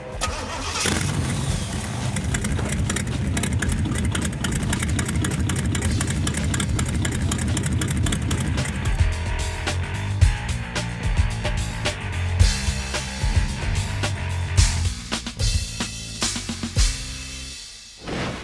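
A car engine turns over and settles into a steady, rumbling idle, close and loud, with occasional small revs and clatter toward the end, at a street rod car show in Emporia, Kansas.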